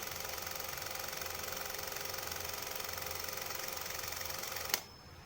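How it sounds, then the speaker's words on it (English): A Bolex H16 Reflex film camera runs with its pressure plate seated improperly, giving a steady, loud mechanical clatter like a vintage projector that stops abruptly near the end, leaving faint hum. "This is the sound of a Bolex H16 Reflex when the pressure plate is seated improperly."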